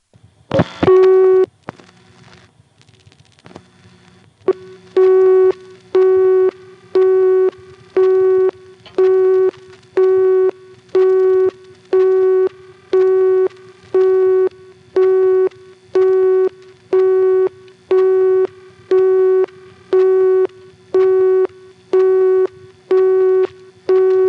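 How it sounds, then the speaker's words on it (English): A telephone busy signal from an electromechanical crossbar register, in 1976 Virginia, repeats in a steady rhythm of short, evenly spaced tone bursts, loud and clear, preceded by a brief clunk of line noise. "One of them is the busy signal that we get from the register when we dial 102 for directory assistance"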